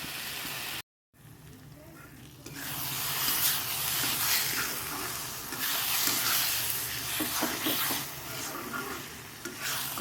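Ground coriander and cumin spice paste sautéing in an iron wok, a steady close sizzle and scraping stir running throughout after a brief gap near the start, with no talk.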